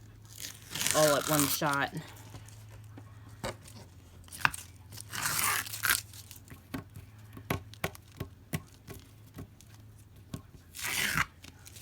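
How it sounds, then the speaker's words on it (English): Tape is peeled off a diamond painting canvas in crinkly, tearing strips that come in short bursts between close speech. "let me just move them off the canvas so I can take the tape off"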